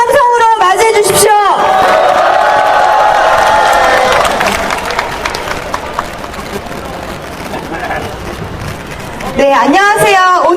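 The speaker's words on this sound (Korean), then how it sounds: "여러분 큰 박수 함성으로 맞이해 주십시오." A large crowd at an outdoor candlelight protest rally in Korea applauds and cheers loudly, with an amplified announcer talking over the start and end as the roar dips slightly midway.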